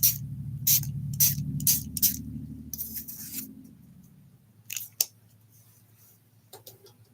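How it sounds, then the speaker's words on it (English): Shimmer mist is sprayed onto paper crafts in a run of short, sharp hissing bursts, first in quick succession, then a few more spaced puffs after a pause, all close and fairly quiet. "we're going to spray these with our shimmer mist"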